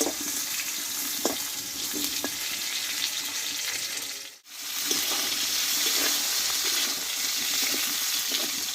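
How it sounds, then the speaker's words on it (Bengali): Wet pointed gourd fries in oil with turmeric in a pan, making a constant close hiss and sputter. Scattered pops sound over it, with one brief dip midway. "যেহেতু পটলটা একটু জল আছে ধুয়ে রেখেছিলাম সেই জন্য তেলটা ছুটবে বলে আমি একটু হলুদ দিয়ে দিয়েছি তেলটাতে"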